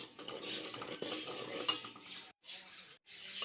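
Kadhi mixture being stirred and roasted in a pan over a low flame, with soft continuous scraping and clinking of a spoon against the pot, quiet and close, broken by two brief pauses.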